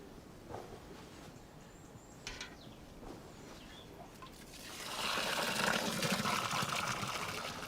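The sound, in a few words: water poured into a planting hole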